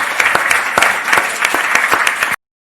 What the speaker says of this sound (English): I'd like to invite everyone to join me in applauding our debaters tonight.